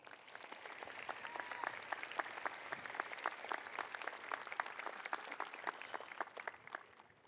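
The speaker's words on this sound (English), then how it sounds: "Let's give them a round of applause." An audience at a high school graduation ceremony gives a round of applause, dense clapping that swells and holds steady before tapering off, heard from within a large hall with no voices over it.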